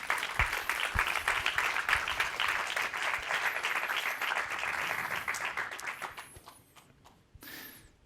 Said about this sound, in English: So an applause for Daniela to come on stage